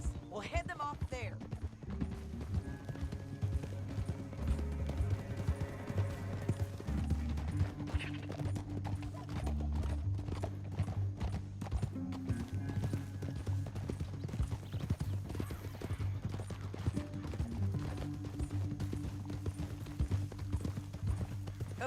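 Horses' hooves clip-clop steadily in the Red Dead Redemption 2 video game, a continuous rhythmic gallop under a musical score, with a brief neigh.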